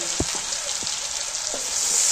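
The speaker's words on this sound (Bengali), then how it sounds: "এইটাই মশলাটা একটু ভাজা করে নিলাম হালকা করে" A spice paste of cumin and chili powder fries gently in a pan for a fish curry, with a steady soft sizzle and a few low knocks from stirring, close and unbroken.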